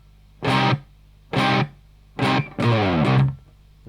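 Electric guitar playing the opening riff: three short distorted notes, then a longer note with a downward slide, close and clear with no talking.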